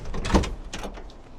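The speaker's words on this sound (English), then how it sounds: "doors open with ease" The door of a 1970 Chevrolet Camaro Z28 swings open with a short latch click and a soft mechanical clunk, close by and fairly loud, then quiet.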